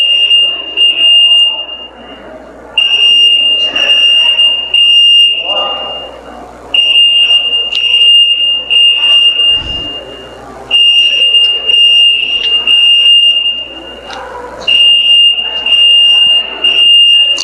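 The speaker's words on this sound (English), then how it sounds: "False alarm" A loud, shrill fire alarm in a lecture hall rings in long repeating bursts separated by short gaps, with a crowd murmuring and moving underneath.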